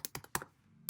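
Computer keyboard keys typed while entering a parameter value into a Simulink block: a few quick, close keystrokes in an uneven rhythm, then a brief pause and one sharp final click.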